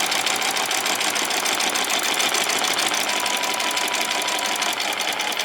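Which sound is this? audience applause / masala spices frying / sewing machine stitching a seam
sewing machine stitching a seam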